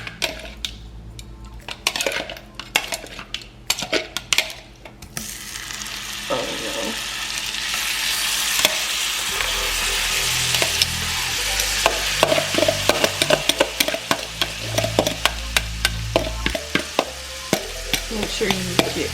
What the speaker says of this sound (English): So we got our pan nice and hot, butter melted, and then we're gonna add in our shrimp.